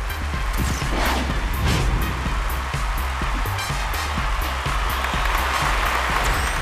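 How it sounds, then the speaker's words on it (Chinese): A studio audience at a Chinese family variety show applauding, with dense, sustained clapping heard up close alongside a steady low thumping beat. "掌声有请"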